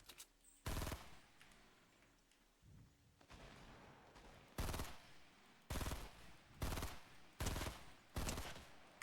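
Gunfire from a weapon in a video game: a string of sharp, loud single shots, fired in an uneven rhythm with short pauses between them, close and punchy.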